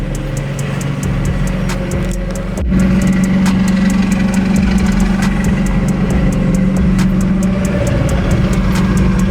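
A right-hand-drive JDM car sits idling at a car meet, its engine note close and steady, with a faint clutch chatter and a brief rise in revs partway through. No one speaks.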